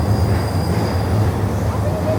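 A train rumbles past close by in Tokyo, a steady heavy roar with rhythmic low clatter of wheels and a faint squeal near the end.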